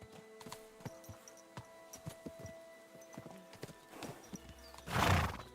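Irregular hoof clops on hard ground, then a loud, drawn-out horse whinny near the end, in the game Kingdom Come: Deliverance II.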